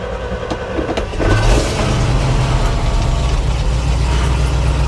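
A Chevy Luv pickup engine, choke pulled, turns over and catches, then settles into a steady, loud running rumble.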